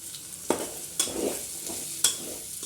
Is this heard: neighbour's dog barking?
no